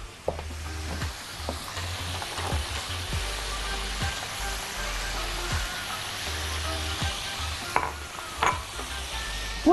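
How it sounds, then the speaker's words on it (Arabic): Onions, garlic and lemon zest frying in hot oil in a pan, a steady close sizzle broken by repeated scraping stirs of a spatula, with no voices. "فاللي هيحصل ان الزيت هيسخن ومعاه البصل والثوم"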